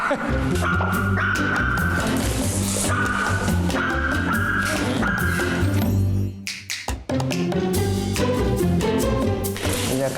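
A pet dog yips and barks several times over loud, continuous background music, close by, with a brief lull partway through.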